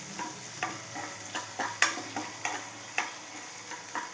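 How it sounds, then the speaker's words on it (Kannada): Chopped onions fry in a hot pan of oil for millet upma, giving a soft continuous sizzle broken by regular scraping clicks as a spatula stirs them, with no talking. "ಈಗ ಈರುಳ್ಳಿ ಚೆಂದ ಫ್ರೈ ಆಗಬೇಕು"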